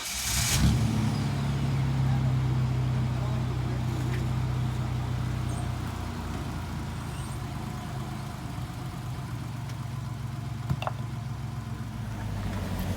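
Pickup truck crawling over a rocky off-road trail at the Lower Rock Garden, its engine humming low and steady up close, with occasional knocks and scrapes as the tires climb over the rocks.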